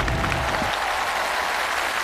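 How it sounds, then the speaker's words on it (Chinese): Studio audience applause on a televised job-hunting show welcomes a contestant to the stage, the clapping dense, steady and fairly loud for the full two seconds. "我们掌声有请"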